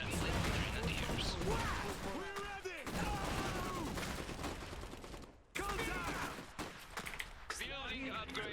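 Gunfire in the Iron Harvest real-time strategy game, dense crackling rifle and machine-gun bursts with mechanical clanks, sustained under near-constant voice lines and chatter, with a brief dip partway through.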